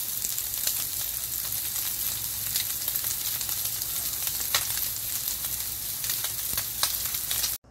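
Pork belly samgyeopsal sizzles steadily in a frying pan, a dense continuous crackle with scattered sharper pops, close and fairly loud, with no talking.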